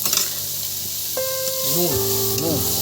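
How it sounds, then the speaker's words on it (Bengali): Tomatoes are added to fish kalia frying in a pan, giving a close, sustained sizzle with stirring, and brief gliding whistle-like tones come in over it partway through. "টমেটো দিয়ে দিচ্ছি বন্ধুরা, দিয়ে এটাকে ভালো করে নেড়ে নেবো"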